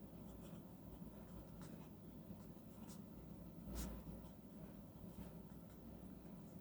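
A fine-nib black ebonite fountain pen glides over paper in faint, steady scratches, with soft strokes and small ticks close by in a quiet room.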